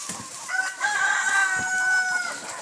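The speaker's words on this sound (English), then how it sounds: "Love that chicken." A rooster in a backyard chicken compost yard crows once, a clear, drawn-out call rising and holding at moderate distance, with faint scratching and rustling beneath.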